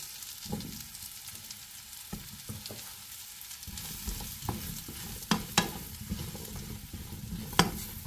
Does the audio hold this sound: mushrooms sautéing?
yes